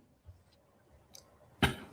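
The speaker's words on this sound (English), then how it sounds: "how long are you gonna keep coughing for?" A person coughs close by, a sudden harsh burst near the end with a second quick one right after, preceded by faint rustles and soft clicks.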